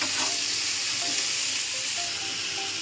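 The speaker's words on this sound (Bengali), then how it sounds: "তো এটা সুন্দর করে ভেজে নিচ্ছে।" Okra (bhindi) frying in a pan, a dense, even sizzle held at a steady level throughout with a few faint stirring touches.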